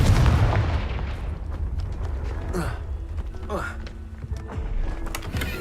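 A Confringo fire spell is cast in the Hogwarts Legacy video game, producing a heavy booming blast followed by rumbling and whooshing magical effects under a spoken voice.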